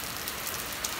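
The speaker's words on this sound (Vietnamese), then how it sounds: "đang đi quá trời mưa rồi mấy bạn" Heavy rain pours steadily on a surface at night by the Hau River, a dense, even hiss with no distinct drops and no voices.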